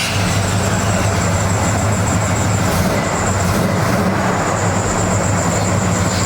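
A neglected Chevy C10 squarebody pickup idles with a loud, steady, throaty rumble heard close up, holding a constant low drone the whole time, with a faint high tone running over it.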